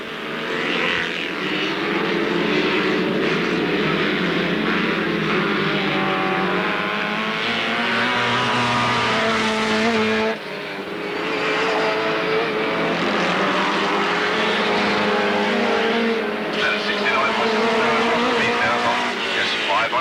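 At Alwalton Raceway, race cars lap with loud, sustained engine roars that rise and fall as they pass close by, over a continuous racing din, while a commentator talks throughout.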